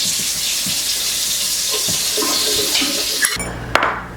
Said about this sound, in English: I'm going to add some hot water to this and we're going to let it rehydrate